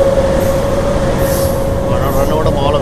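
A DEMU passenger train running between Nandyal and Tirupati rumbles along steadily with a constant droning engine tone, a close, loud interior hum throughout the short stretch.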